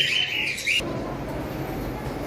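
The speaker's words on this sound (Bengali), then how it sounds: "আসলে এখানে দুইটা পাখি রয়েছে" Pet birds, cream-faced and red-eyed, let out a harsh, loud squawk close by for under a second, then leave a steady low background hum.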